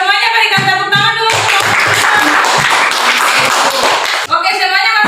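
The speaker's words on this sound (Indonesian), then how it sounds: "Semuanya berikan tepuk tangan dulu." Classroom audience claps together after a class group presentation, a dense burst of applause lasting a few seconds between stretches of a voice speaking.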